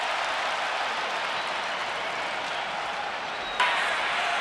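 College football stadium crowd at a Virginia Tech versus Syracuse game, a sustained loud roar of cheering and noise filling the stands, with a brief sharp sound near the end.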